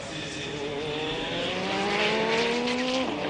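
A Toyota race car at Le Mans 1994 sweeping past, its engine note a loud rising then falling whine with a clear pitch drop as it goes by, over faint track ambience.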